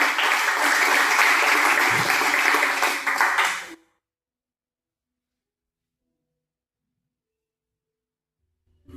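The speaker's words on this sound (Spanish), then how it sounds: "Dale un fuerte aplauso al Señor." A church congregation applauding loudly and steadily for about four seconds, then cutting off abruptly into silence.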